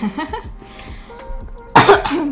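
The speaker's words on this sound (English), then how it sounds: "Sorry, I'm coughing" A single sharp asthma cough bursts out after a stretch of quiet speech, loud and close, with a short rough tail.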